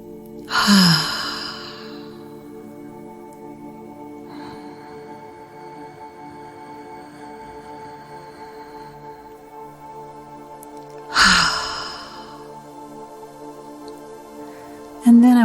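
Slow, deep breaths through the nostrils during a meditation, two long airy exhales spaced several seconds apart with a faint hum between and a soft voice near the end.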